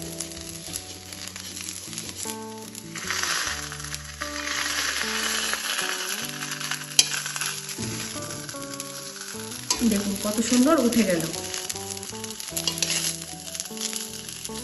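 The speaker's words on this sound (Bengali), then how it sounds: "বেশ একটু হালকা ভাজা ভাজা করে বানাবো পিঠেটা" Patishapta pitha, a rolled Bengali pancake, fries in an iron karai with a loud, steady sizzle while someone talks over it and background music plays.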